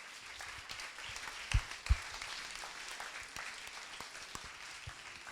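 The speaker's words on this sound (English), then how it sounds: "Can I get a massive round of applause for Adriana?" Scattered audience clapping at a women's startup pitch night in Paris, a light, fairly faint patter of hands with a couple of sharper claps standing out.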